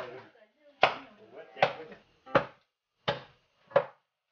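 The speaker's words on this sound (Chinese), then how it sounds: "像这种年纪大的鸡是不是剁起来都费劲啊" A cleaver chops through an old rooster, five years old, being cut up for ginseng chicken soup in a stone pot: five heavy, evenly spaced thuds on a board, with quiet talk between blows.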